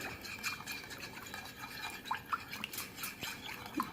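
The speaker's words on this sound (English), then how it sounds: "And I'm just going to stir it." Kosher salt stirred into a liquid solution for polishing brass, close scraping and gritty swishing strokes with small clinks and drips in an uneven rhythm, no talking.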